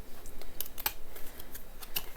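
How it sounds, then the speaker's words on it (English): Oracle cards being gently separated and shuffled by hand, producing soft, quick papery clicks and flicks in an irregular rhythm, close but quiet with no talking. "I'm trying to gently separate these cards, but when I shuffle them, I would shuffle them very gently"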